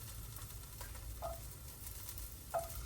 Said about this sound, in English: it's already sizzling.